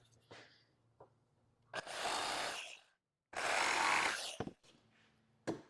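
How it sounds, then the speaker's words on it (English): A jigsaw roughs out notches in a clamped part for a tall shop cabinet, heard as two loud, close buzzing cuts of about a second each, separated by quiet pauses and small knocks. "I'm just going to use the jigsaw to rough out the notches."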